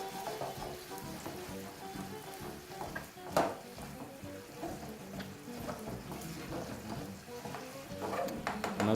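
Cherry tomatoes and spinach stirred into pre-cooked stir-fry pork in a pan, a continuous soft sizzle with scraping and shuffling of the food and one brief louder clack, close and steady.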